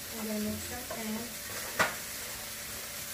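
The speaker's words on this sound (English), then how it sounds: "I'm going to mix my pan" Food is stirred in a frying pan, with a steady sizzle under faint voice-like tones and a single sharp scrape of the utensil against the pan partway through.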